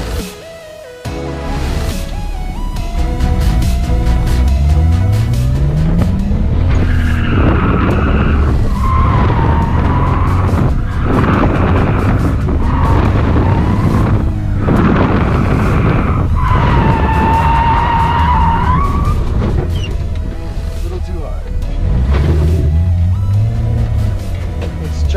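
A car on drift spare tyres makes a drift run, recorded close from on board: the engine revs rise and fall loudly while tyres squeal in long bursts, with no talking over it.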